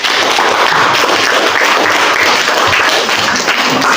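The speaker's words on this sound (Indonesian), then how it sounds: "Tepuk tangan dulu untuk kelompok." A class in a teacher-training performance session claps for a student group, steady dense applause that stays loud and even throughout, with no talk over it.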